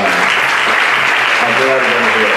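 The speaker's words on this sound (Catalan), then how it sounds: "Un fort aplaudiment, Carles i Palau" Audience applause at a Catalan theatre group's anniversary event, a dense steady wash of clapping throughout with a voice speaking over it.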